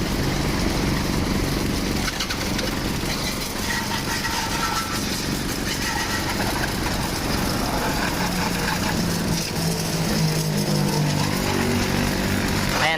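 A coin-operated vending pressure washer rinses a motorcycle, its motor droning loud and steady for the whole stretch with a hissing spray, while voices talk faintly underneath.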